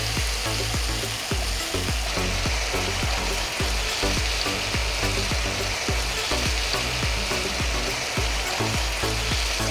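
Gravy with sour yogurt cooking in a pan, a steady loud sizzle and bubbling frying sound that continues without a break, close up and with no talking.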